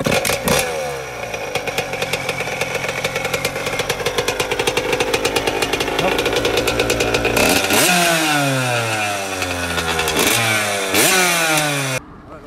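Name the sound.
motocross motorcycle engine started and revving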